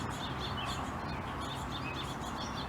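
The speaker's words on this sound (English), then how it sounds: "And I'm hearing so many birds right now." Many birds chirp and tweet together outdoors, a steady dense chorus of small high calls throughout, fairly faint, with no talking.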